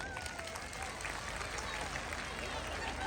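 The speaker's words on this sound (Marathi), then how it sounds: "जर यांना सेम फायनल मध्ये घ्यायचं असेल तर जोरात टाळ्या वाजवा." Large audience of women at a live comedy show clapping loudly and continuously, a dense wash of applause heard from some distance with no pauses.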